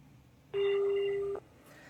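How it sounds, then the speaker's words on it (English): Voicemail beep on a phone line: a single steady electronic tone lasting under a second, clear and loud over faint line hiss. "Please leave a message at the tone"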